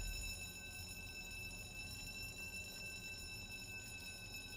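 Fire alarm in the video game Hellmart ringing continuously at a steady pitch, a faint electronic tone held alone over low background rumble.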